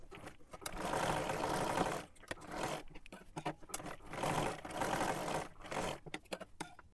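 Sewing machine double-stitching a kurti seam, running in bursts of rapid whirring stitches broken by short pauses and clicks, close and fairly loud with no talk.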